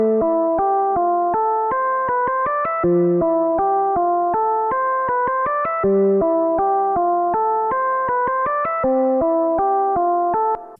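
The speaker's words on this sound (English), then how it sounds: "And so now our whole sequence across the 64 steps and the 4 pages sounds like this." Ambient Ø synthesizer playing a 64-step sequence across four pages, a steady stream of repeating plucked tones with shifting low notes and light echo, even and continuous with no voices.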